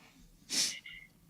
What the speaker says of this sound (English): Did you just sneeze in the middle of my joke?